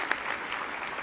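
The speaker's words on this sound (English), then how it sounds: "Don't hold your applause. Go for it." Applause from a graduate commencement crowd, many hands clapping in a steady wash heard from within a large hall, with no voices over it.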